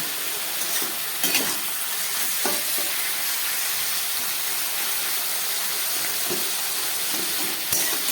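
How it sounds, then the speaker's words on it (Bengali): Oyster mushrooms, soaked in salt and turmeric, fry in a pan with a continuous close hiss and sizzle. Occasional sharp clicks from stirring break the steady sound. "একটু ভালো করে এটাকে ভেজে নেব"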